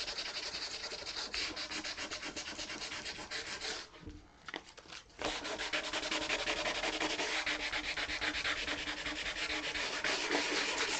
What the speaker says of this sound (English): And after this is all sanded